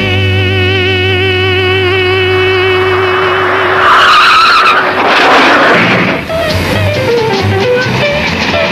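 A loud engine hum gives way to tires screeching in a long skid, then the car roars on at high revs.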